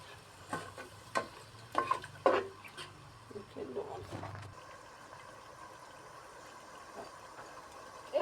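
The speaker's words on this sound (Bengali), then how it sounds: "ছোলার ডালটা এর ভিতরে দিয়ে দিচ্ছি নাড়াচাড়া দিই" Chana dal is stirred in a cooking pan, with several distinct spoon clinks and scrapes early on, a voice briefly present, then a faint, soft sizzle trailing off.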